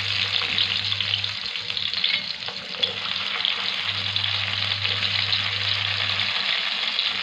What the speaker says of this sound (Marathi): मग मी कांदा घालते.